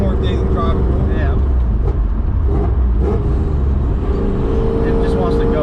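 A supercharged 1994 BMW M8 E31 with a swapped M5 V8 and a very loud exhaust drones and rumbles from inside the cabin while driving, with people talking over the engine noise.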